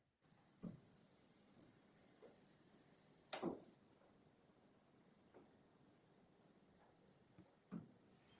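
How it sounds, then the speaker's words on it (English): Crickets chirp in steady rhythmic pulses, high-pitched and continuous, with a few soft knocks and taps in the foreground. "We're having like crickets."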